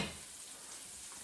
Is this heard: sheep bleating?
no